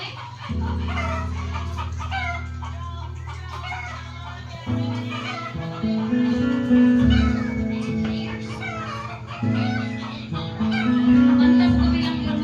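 Chickens clucking nearby in a backyard, with repeated low clucks and cackles over a steady droning background, mixed with other bird calls and scattered voices.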